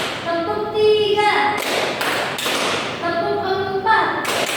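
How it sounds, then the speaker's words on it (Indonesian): Classroom of students clapping hands in a counted rhythm during an Arabic lesson, groups of sharp claps and thumps in bursts between chanted voices, close and loud. "Tepuk 1, tepuk 2, tepuk 3,"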